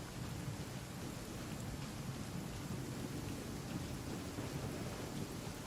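Steady, heavy rain pours with a deep rolling thunder rumble underneath in the video game Genshin Impact, a continuous dense wash of sound with no voices.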